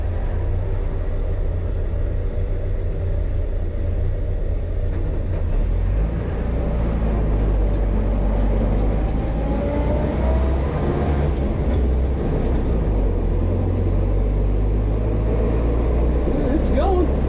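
A 1967 International Scout 800 four-wheel drive pulls away in first gear, a low steady engine rumble with drivetrain rattle and road noise, close and continuous as voices talk inside the cab.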